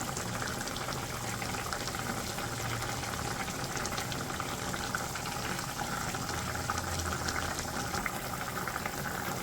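Curry gravy boiling down in a pot on a village cooking fire, a steady close bubbling simmer with no talk.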